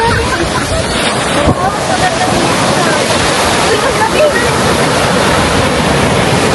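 Ocean waves break at a beach, a loud, continuous roar of surf blended with heavy wind buffeting the microphone.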